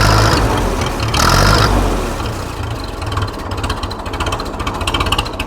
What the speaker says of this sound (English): listen to that tick over. It'll tick over as low as 400 RPM.